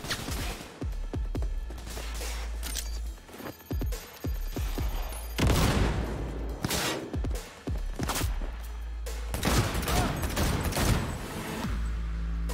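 Bursts of gunfire ring out in Cyberpunk 2077, loud clustered volleys with sharp booming reports separated by short pauses, a rapid fusillade that swells and stops repeatedly.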